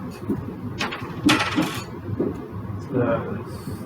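Dice rolled onto a table for a perception check in a tabletop role-playing game, several hard clattering bursts close by, with voices talking softly around them.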